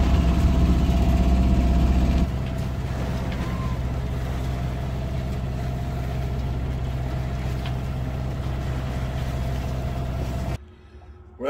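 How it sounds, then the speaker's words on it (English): A tiny Albin Vega sailboat motoring along the south coast of Sweden on its engine, a steady low diesel drone and hum close by, louder for the first couple of seconds, then even before cutting off near the end. "So, we decided to motor the rest of the way."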